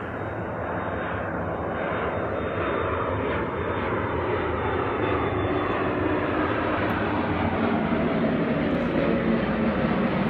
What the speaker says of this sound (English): It's a 737 today. Usually it's just an Embraer, so 737 a little bit louder.